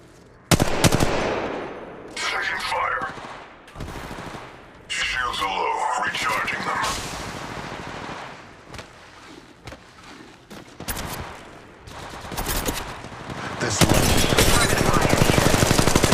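Gunfire in the mobile shooter game Apex Legends Mobile comes as repeated bursts of rapid automatic shots and single cracks, loud and close, mixed with a talking voice through much of the stretch.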